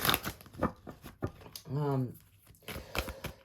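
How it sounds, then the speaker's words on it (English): Soft riffling and flapping of a deck of cards being shuffled, with a quick ripple in the middle and quiet talk around it. "So excuse me while I shuffle."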